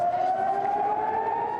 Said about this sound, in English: The air raid sirens forcing people to stay home and take cover in bomb shelters.